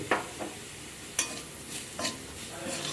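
A utensil stirs fried onions with a pinch of turmeric in a pan, three distinct scraping strokes over a soft, low sizzle, close and fairly quiet, with no voices.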